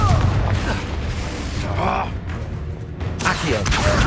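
A Confringo blasting spell in Hogwarts Legacy erupts as a heavy, rumbling explosion amid ongoing combat booms, loud and close, with a voice calling out the spell.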